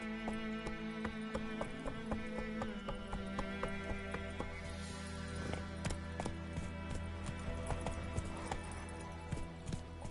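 Horse hooves clip-clopping at a quick, steady pace in The Witcher 3, the rhythmic thuds continuous over a game backdrop of layered ambient tones.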